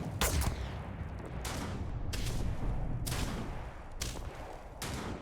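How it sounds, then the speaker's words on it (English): Distant enemy gunfire in Starfield, sharp repeated shots arriving in spaced bursts about once a second over a steady hum of game ambience. "they're shooting me from far away"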